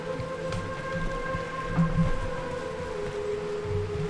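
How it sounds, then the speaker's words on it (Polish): Steady rain falls in Kurast, the jungle region of Diablo 2: Resurrected, a soft continuous patter with a low rumble beneath sustained game music tones. "Deszczyk pada w Kurast."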